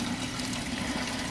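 Coolant drains steadily from a radiator hose on a 2000 Ford F350 with the 7.3 PowerStroke diesel, a continuous watery rush with a low hum beneath it, even and fairly faint throughout.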